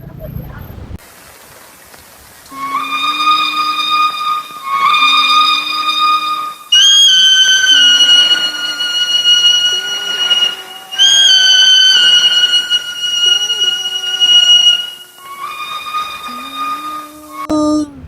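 A flute passage from a film score mimics a passing train's whistle, with sustained bright tones rising and falling in repeated phrases, loud and clear with no talking over it.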